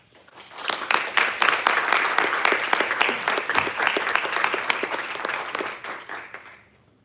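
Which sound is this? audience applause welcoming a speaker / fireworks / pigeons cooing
audience applause welcoming a speaker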